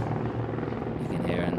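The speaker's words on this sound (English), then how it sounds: "that's a helicopter going over the circuit" A helicopter flies over a racing circuit, its steady low rotor rumble and broadband whir holding throughout the short stretch at fairly loud level, with a faint brighter swish rising near the end.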